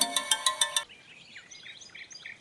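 A phone rings with an incoming call, a rapid bright electronic ringtone pulsing about six times before cutting off, followed by faint chirping ambience.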